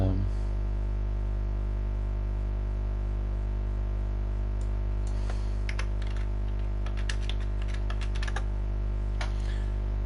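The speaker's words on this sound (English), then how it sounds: "can probably hear me typing away" Light typing on a computer keyboard: scattered clicks and short bursts of keystrokes come mostly in the second half, over a steady low background hum.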